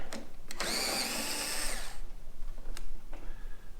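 A power drill or driver backs out the bolts holding a car dashboard, one loud whirring burst of about a second and a half, followed by faint clicks and handling noises, no talk.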